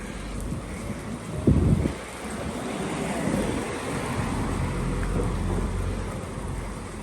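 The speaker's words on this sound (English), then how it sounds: "Huge drops of rain hitting my bald pate." Heavy rain pours steadily in a dense hiss, with a sharp, loud spatter of big drops hitting close by early on.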